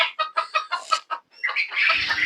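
Quail birds call from their cages, a string of about eight sharp, close, rhythmic clucking notes followed by a brief louder, rasping call mixed with rustling.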